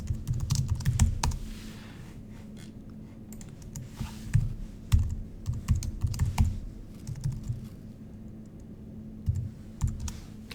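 Computer keyboard typing up close: quick irregular bursts of crisp key clicks with short pauses between runs, no talking.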